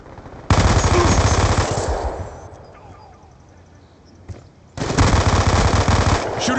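Black Ops II multiplayer gunfire: two long bursts of rapid automatic fire, loud and dense, separated by a quieter stretch with faint game sounds and a single sharp shot.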